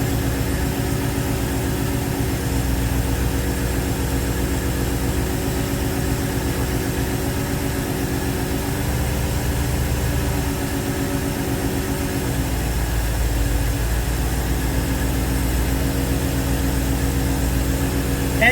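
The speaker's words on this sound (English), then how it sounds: "engine's almost warmed up" A carbureted small block Chevy marine engine in a Silverton 34C boat idles steadily while warming up, a close, even low rumble that continues unbroken with a slight shift in tone partway through.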